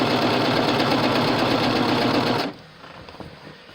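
A serger stitches knit fabric to stretch cotton sateen in a loud, steady, rapid mechanical chatter that cuts off abruptly, leaving quiet handling noise behind.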